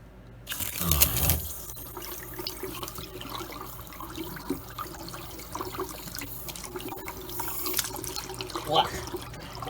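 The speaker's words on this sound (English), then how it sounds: "I have the other end in the sink, and then I'm going to turn it on full blast" Water runs at full force through a Python aquarium siphon into a sink, a steady broadband rush with splashing and a louder surge near the start, while a person talks over it.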